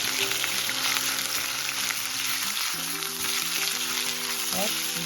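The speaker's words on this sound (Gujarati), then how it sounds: "હવે છે ને આદુને શેકી લેવાનું" Ginger roasting in a pan with green chillies gives a steady, loud crackling sizzle throughout, with a faint tonal hum running underneath.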